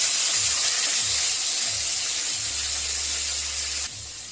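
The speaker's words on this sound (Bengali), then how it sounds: "হালকা নুন, হলুদ আর লঙ্কার গুঁড়ো দিয়ে ম্যারিনেট করা চিকেনটা এবার একটু ভেজে নেব" Marinated chicken seasoned with salt, turmeric and chili powder sizzles in hot oil, a steady close-up hiss that holds evenly before dropping slightly in level near the end.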